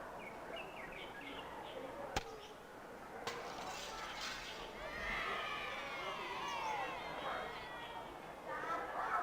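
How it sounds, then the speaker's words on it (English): Children cheering as a sound effect in the video game Harvester: after a couple of sharp clinks, a faint, wavering swell of many young voices rises midway and lingers. "The kids cheering sound effect"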